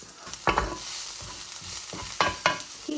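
Onion and garlic cook in a pan under a soft, steady sizzle, with a few louder scraping stirs breaking through, two close together near the end.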